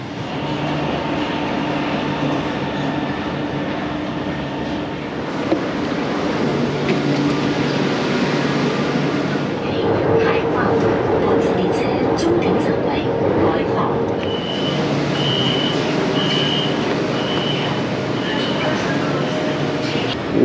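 Guangzhou Metro Line 3 train rumbling steadily through a carriage, with a continuous low hum and rail noise throughout and tonal beeps or chimes near the end, under people talking in the background.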